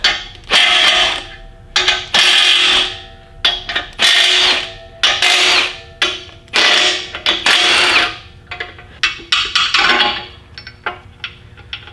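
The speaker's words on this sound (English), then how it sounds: "Gonna break loose all our main cap bolts." Hand tools and a power tool breaking loose the main cap bolts on a Cummins 4BT diesel engine block during reassembly, heard as a series of loud, close mechanical bursts and ratcheting with short pauses between them, no talking.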